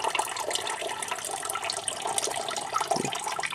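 Water poured off a container of settled homemade aluminium powder, a steady splashing, trickling pour close by with no talking.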